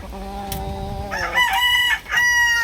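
A Boston Sweater gamecock from the Larry Romero bloodline crows loudly and clucks up close while being weighed, giving a long sustained crow followed by shorter calls.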